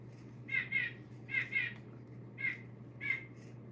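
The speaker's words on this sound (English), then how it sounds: "That was my bird clock you heard that just went off." A bird-call clock chimes the hour with crow-like caws, four short paired bursts spaced about a second apart over a steady low electrical hum, moderately loud and indoors.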